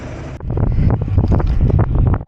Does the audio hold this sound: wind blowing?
yes